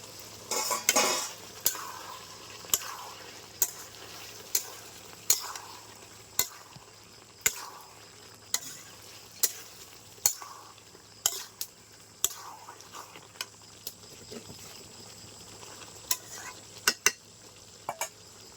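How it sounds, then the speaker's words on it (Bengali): Duck meat curry with fried potatoes being stir-fried in a pan, steady sizzle beneath a regular series of sharp spatula scrapes and taps roughly every second, close and clear with no talk. "এখন আমি ভালো করে কষিয়ে নেব মাংসগুলিকে।"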